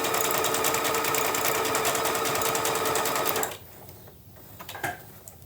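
A sewing machine stitches appliqué on a tote bag, a loud, steady, rapid mechanical whir for about three and a half seconds before stopping, followed by faint handling clicks.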